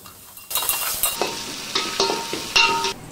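Green chilies, mint leaves and ginger-garlic paste stirred in a sizzling pan for a Rayalaseema-style rice and chicken curry, with bursts of frying crackle and scraping strokes coming in several waves, close and alone without talk.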